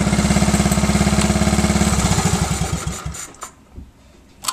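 A 1968 Honda Mini Trail dirt bike's small single-cylinder engine chugs in a rapid, even putter up close, then cuts out and sputters to a stop, leaving faint scattered knocks and rustles.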